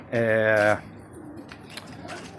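Pigeons on an old rooftop give a single loud, close coo of about half a second, followed by quieter background noise with faint chirps.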